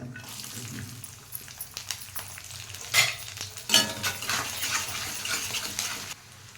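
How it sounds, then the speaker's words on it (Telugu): Urad dal, cumin and coriander seeds fry in a hot pan, a close, continuous sizzle with bursts of stirring and crackle swelling in the middle before fading. "మినప్పప్పు, జీలకర్ర, ధనియాలు అవి కొద్దిగా వేగాక చూడండి"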